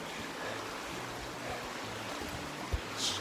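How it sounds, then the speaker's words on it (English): A small mountain stream flows with a soft, steady trickling wash, faint and continuous, with a brief low knock near the end. "beautiful little stream right here. Fresh mountain water."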